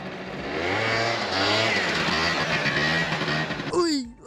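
An old 1980s scooter engine revs steadily and fairly loud for a few seconds, a buzzy mid-pitched drone rising and holding, before a voice briefly breaks in at the end.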